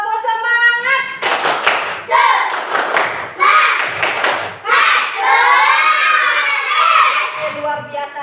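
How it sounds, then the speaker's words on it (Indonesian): Children perform a rhythmic spirit clap in a classroom, with bursts of hands clapping in quick patterned groups between stretches of young voices chanting and calling out, close and lively. "Tepuk semangat!"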